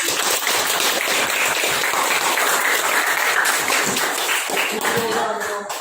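A classroom claps for a student group, with steady dense applause filling the whole stretch, fairly close and loud, with a few voices underneath.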